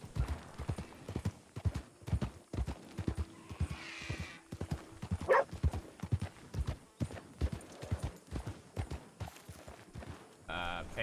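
Horse hooves clip-clop steadily at a riding pace in a Western role-play video game, with a brief whinny partway through and a voice talking over the hoofbeats.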